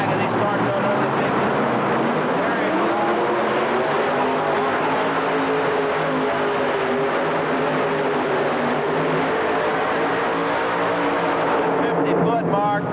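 A race car engine roars loudly and accelerates, its pitch rising and shifting steadily for several seconds, with a commentator talking over it throughout.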